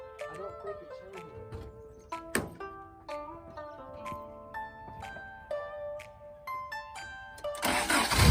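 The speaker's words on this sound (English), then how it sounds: "Let me start the car up" A 1983 Toyota Celica GTS is started. A series of clear tonal chimes and clicks comes first, then a loud rush of engine cranking and catching bursts in at the very end.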